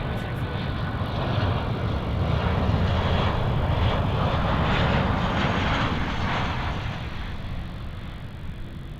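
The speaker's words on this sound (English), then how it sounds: "Looks like this is Rex flight ZL223 coming in from Brisbane. It's going to be landing here on runway 34." A Rex Boeing 737-800 jet comes in to land on runway 34 at Melbourne Airport after a flight from Brisbane, with steady loud engine roar that swells slightly and then holds as the aircraft passes.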